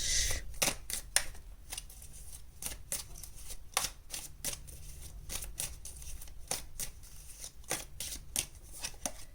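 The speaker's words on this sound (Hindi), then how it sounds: "चलिए और कार्ड्स निकालते हैं फॉर यू" Tarot cards drawn and handled for a pick-a-pile reading, a steady run of crisp, close paper snaps and flicks with no voices.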